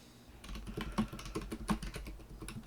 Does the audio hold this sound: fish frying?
no